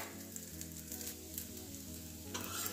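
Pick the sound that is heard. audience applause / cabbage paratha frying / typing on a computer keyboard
cabbage paratha frying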